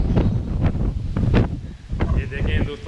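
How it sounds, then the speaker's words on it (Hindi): Strong wind in Karachi, Pakistan, buffets the microphone in loud, gusting rumbles with sharp bursts of wind noise throughout, close and dominant across a few seconds. "इस वक्त हवा बहुत तेज़ी से चल रहा है।"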